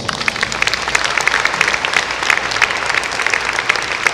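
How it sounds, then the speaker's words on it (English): Steady, dense applause from a sizable audience fills the whole stretch, even and sustained without pauses. "So let's give them a round of applause."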